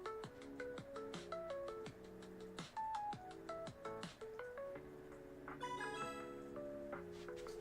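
A phone app plays its notification sound, a string of bright, chiming electronic notes in a quick repeating melody that runs steadily for several seconds at low volume with no voices.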